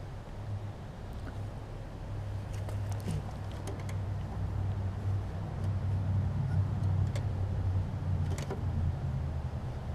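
A Snapper RER riding lawn mower engine runs steadily at a constant idle, a continuous low droning hum with faint rattles and clicks on top, fairly near and unbroken for the whole stretch.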